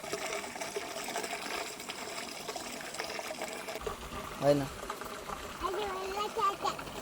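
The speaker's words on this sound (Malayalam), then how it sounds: "ഇവിടുന്ന് നേരെ വെള്ളം ദേ ഈ കാണുന്ന ഓവിലൂടെ ഒഴുകിയാണ് പാടത്തേക്ക് വരുന്നത്" Water flows through a channel into a paddy field in a village setting, a faint steady rushing and trickling that runs throughout while people talk over it.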